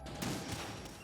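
Gunfire in Metal Gear Solid 2, a quick burst of rapid shots heard close and loud in a single second with no talk over it.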